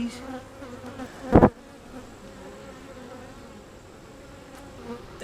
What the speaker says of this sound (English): Full of bees.